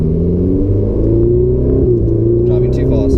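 A Ferrari 488 engine accelerates on a track, a loud close rumbling roar with rising harmonic tones as revs climb steadily, heard from inside the car.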